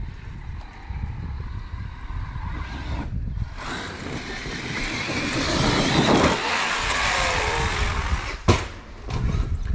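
A Traxxas X-Maxx RC truck runs at a bike park with a central driveshaft damaged by a hard landing, its motor whining over a broad gritty rush that swells and dips, with an abrupt sharp burst near the end.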